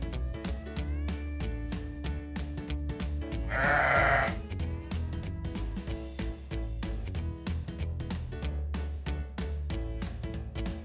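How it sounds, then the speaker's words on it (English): A single sheep bleats once, loud and wavering, over bouncy children's background music with a steady beat. "It's a sheep!"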